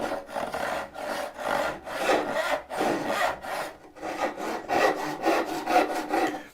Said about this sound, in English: It's a good dovetail saw.